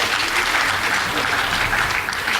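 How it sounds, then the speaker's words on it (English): Audience applause for school debaters at a debate competition between Nakuru School and Annester Precious Girls, a steady dense clapping that fills the whole stretch at even loudness without a break. "Please give them a round of applause"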